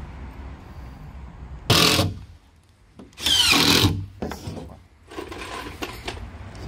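A power drill drives screws into wood while building a dog house, with two loud whirring bursts separated by quiet, followed by softer clattering and handling noises nearby.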